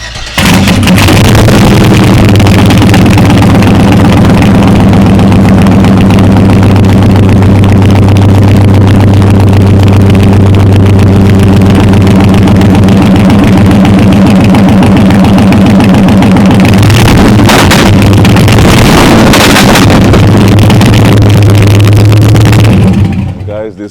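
A loud Mercedes 190E engine cranks and catches, then idles roughly with a deep, steady rumble and occasional revs throughout.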